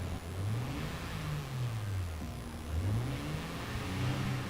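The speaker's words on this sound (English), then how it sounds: "It's got a nice low grunty sound when you rev it really high." Car engine with the optional sport exhaust revving in repeated rising and falling sweeps, a low grunty tone, fairly close and steady, with no voices.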